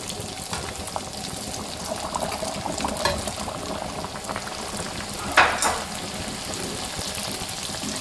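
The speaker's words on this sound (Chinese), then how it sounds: "起锅烧油，油温达到7、8成热，放入生皮。" Strips of youtiao dough frying in oil heated to 70–80 percent, a steady bubbling sizzle throughout with a brief louder burst of crackling near the middle, no voices.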